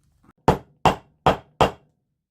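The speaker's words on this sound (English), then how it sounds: "we're going to clip this old rivet out" A hammer knocks an old rivet out of a vintage Boy Scouts of America haversack with four sharp, close, evenly spaced blows, and no talking.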